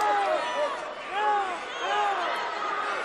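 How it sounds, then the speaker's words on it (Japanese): Crowd cheering at a 1970 NWA Hollywood wrestling match, a distant steady roar that rises and falls beneath a voice talking over it throughout. "ゴーゴーたる歓声、チャレンジャーの馬場選手に集まります"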